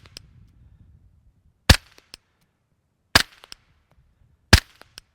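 Three sharp, muffled suppressed 9mm gunshot pops spaced a second or so apart, each with a short crack and brief echo, over quiet background.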